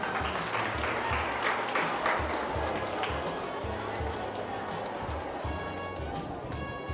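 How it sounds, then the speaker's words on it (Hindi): Audience clapping for a teacher at a school chemistry demonstration, steady broadband applause filling the whole stretch with some crowd murmur and a low hum underneath. "ललित सर के लिए दोबारा तालियां."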